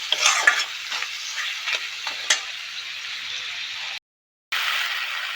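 Tomato frying with chilli, turmeric, pumpkin and ginger-garlic paste while being stirred, giving a close sizzle with scraping strokes and brief clinks, broken by a short silent gap near the end.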